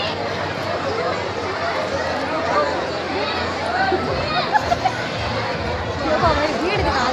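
Dense crowd chatter fills a busy village feast, many voices overlapping steadily at close range with occasional footsteps and brief louder bumps.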